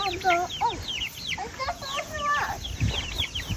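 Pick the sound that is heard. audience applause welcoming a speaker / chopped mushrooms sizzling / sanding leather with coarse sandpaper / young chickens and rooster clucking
young chickens and rooster clucking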